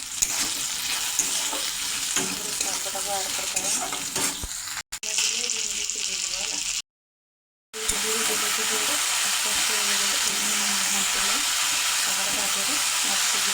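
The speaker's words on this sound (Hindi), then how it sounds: "ଭେଣ୍ଡି ପିଆଜ ଟିକେ ଭାଜିଦେବା" Steady sizzling of okra and onion frying in a pan fills the clip, a continuous close hiss with faint stirring and a brief silent gap.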